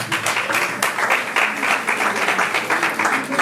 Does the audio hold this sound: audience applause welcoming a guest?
yes